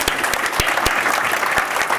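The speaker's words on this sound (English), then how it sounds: "So big round of applause here." A demo day crowd claps steadily, a dense, even patter of many hands with a few sharper claps standing out, continuing throughout.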